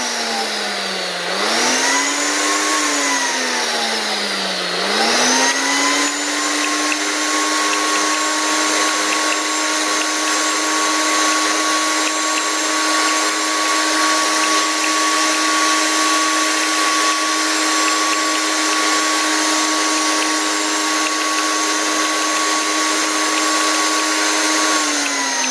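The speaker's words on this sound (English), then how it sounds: "Let's try blend now. This is the blending program." A loud Ninja Foodi Power Nutri Blender 2-in-1 on its blending program whirs steadily, its motor pitch dipping and rising briefly near the start before settling into a constant high drone.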